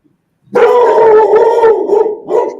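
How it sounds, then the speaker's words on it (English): A dog at a house lets out a loud, close drawn-out howling bark lasting over a second, then a shorter second yelp, with no voices. "I know whose house it is by the bark."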